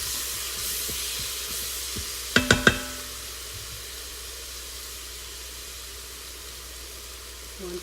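Noodles frying with Goya Sazon seasoning for sopa de fideo, a quiet steady sizzle with a few clinking strokes of stirring in a pan partway through.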